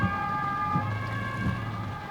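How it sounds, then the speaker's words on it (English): An ambulance siren wails through city traffic in Cologne, a steady piercing tone heard from a moderate distance over the rumble of road noise. "There is an ambulance coming from somewhere."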